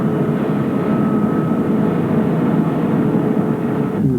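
Continuous loud roar of military aircraft on an aircraft carrier deck, with steady broadband engine noise and a low droning hum throughout, no voices.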